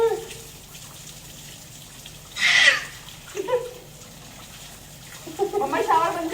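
Water splashing during a bath, with a brief loud gush midway and a splashy burst near the end, while people talk over a faint background.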